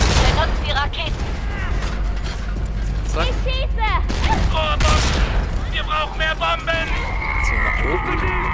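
Dense gunfire and explosive rocket blasts fill a battle in the video game Homefront: The Revolution, with sharp repeated shots over a constant rumbling backdrop and shouting voices mixed in throughout.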